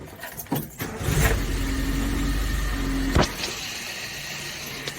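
A Suzuki Samurai SJ410/SJ413 engine cranks and catches, giving a steady mid-pitched whirr for about two seconds before cutting off abruptly. A short mechanical clunk or two is heard nearby.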